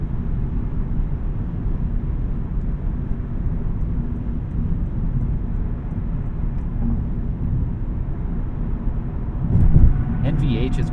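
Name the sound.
tire and wind noise inside 2024 Lexus IS500 on highway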